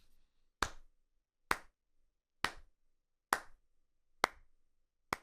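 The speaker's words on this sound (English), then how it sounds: "Slow clap earned." A slow clap: six single sharp hand claps, evenly spaced about a second apart, close and isolated against near silence.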